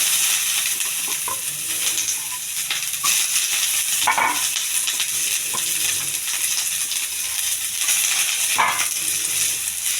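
Onions frying in oil at the start of an okra stir-fry, giving a steady, dense sizzle with light stirring clicks and scrapes throughout, close and fairly loud with no talking.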